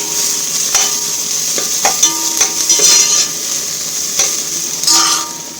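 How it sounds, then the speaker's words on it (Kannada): Chicken frying in a little oil in a pan, a continuous close sizzle with intermittent spatula scrapes and knocks against the metal, fairly loud with no speech. "ಇನ್ನೂ ಸ್ವಲ್ಪ ಕೆಂಪುಗಾಗಲಿ ಅಲ್ಲಿವರೆಗೂ ಹುರಿತೀನಿ"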